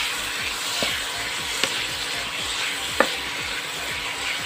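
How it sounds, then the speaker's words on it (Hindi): Tomato frying in a pan for green chilli pickle, a steady close sizzle with a few sharp spatula clicks against the pan and no talk. "इसको भी हम इसमें डाल के अच्छे से भून लेंगे।"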